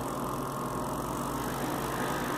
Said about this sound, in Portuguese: Agora eu vou aumentar a velocidade do motor CC.